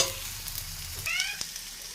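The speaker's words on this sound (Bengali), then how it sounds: "এই যে আলুগুলো আমি একটু ভেজে নেব।" Potato and pointed gourd pieces fry in a pan for a vegetarian sabji, a faint, soft sizzle with a few light stirring clicks and scrapes, no voices.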